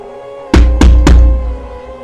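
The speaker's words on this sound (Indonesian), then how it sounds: "Suara ketukan semakin jelas" Three loud, close knocks on a door, evenly spaced within about half a second, thudding and heavy, with rain-like background hiss behind them.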